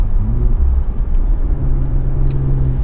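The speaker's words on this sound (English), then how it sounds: "This one also sounds great thanks to the newly available from your dealership Sport exhaust option" A turbocharged 2019 Infiniti Q60 Red Sport 400 engine with a sport exhaust rumbles steadily with a deep, throaty exhaust drone, heard close by and fairly loud, with no talking.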